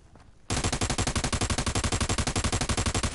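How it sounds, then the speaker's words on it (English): SAW machine gun in America's Army firing one long sustained automatic burst of rapid, evenly spaced loud shots after a brief quiet start, with no talking. "this is America's army where saw guns are overpowering on the damage"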